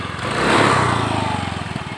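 A Honda Beat FI scooter engine, just repaired, runs smoothly up close, with a steady mid-pitched motor hum that swells briefly as it revs and then settles back to an even idle.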